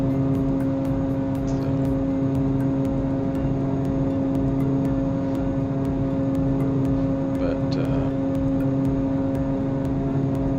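Evektor EV-55 twin-engine airplane in X-Plane 11 flight simulator, a loud, constant turboprop engine drone with a steady tonal hum that holds unbroken throughout, with faint light clicks on top.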